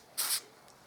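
A single short burst of Mr Sheen polish sprayed from an aerosol can onto a rag, crisp and close, followed by a faint second puff.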